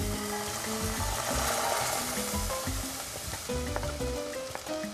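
Garlic sizzling and browning in a hot pan, a continuous crackling fry with scraping stirs, followed by milk poured in that briefly dulls the hiss before scattered bubbling and pops return.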